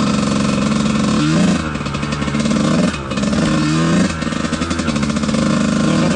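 Kawasaki KX125 two-stroke dirt bike engine while riding, loud and close, with a buzzing, rising and falling exhaust note as the throttle repeatedly rolls on and off.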